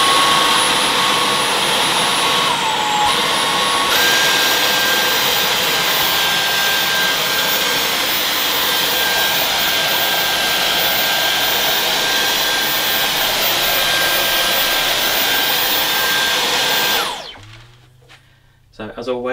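A Dyson Outsize Absolute cordless vacuum runs on short wiry carpet, making a loud, steady high-pitched motor whine with a brief pitch shift early on, then cutting off abruptly near the end.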